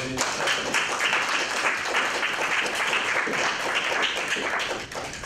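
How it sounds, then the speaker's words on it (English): Applause fills a student senate meeting room, a steady dense clatter of many hands held at an even level for about five seconds before easing off at the end. "Quick round of applause for Steven Spiraza, Justin Azeen, Keegan Car"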